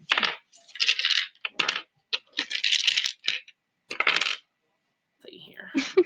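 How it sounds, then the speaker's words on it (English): Dice rolled during an online tabletop role-playing session, a series of short sharp clattering bursts of small objects tumbling and rattling, some spaced apart, fairly close and loud with no talk over them. "Some of you guys rolling dice are really loud."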